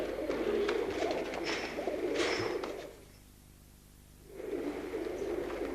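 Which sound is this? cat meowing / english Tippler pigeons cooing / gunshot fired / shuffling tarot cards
english Tippler pigeons cooing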